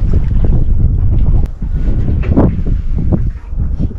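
Sailboat cruising slowly toward Naxos under wind, with heavy gusts buffeting the microphone, a low rumbling rush of wind and water, and occasional splashes of waves against the hull, loud and close.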